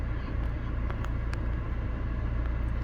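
A 2018 Toyota Landcruiser Prado GXL engine idles with a steady low rumble that holds even and unchanging throughout, and no clear start is audible.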